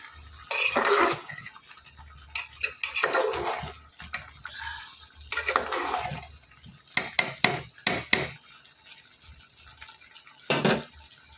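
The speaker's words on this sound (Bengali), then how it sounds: "এবারে জল দিয়ে দিচ্ছি" Heated water is poured into a pan of chicken curry with ghee and garam masala, heard as a few separate splashy, bubbling gushes with soft stirring and clinks between them, quiet and close.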